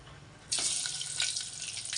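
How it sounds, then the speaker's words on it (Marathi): Sudden loud hiss and crackle as curry leaves and garlic hit hot oil for tempering, bursting in after a brief quiet start and sizzling steadily close by. "इथं बघा फोडणी देते पहिलं जरा कढीपत्ता टाकते आणि लसूण"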